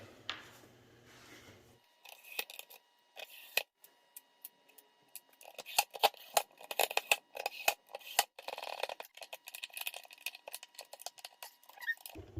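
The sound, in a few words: screws being screwed back in with a screwdriver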